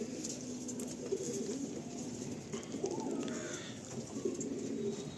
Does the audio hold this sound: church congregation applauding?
no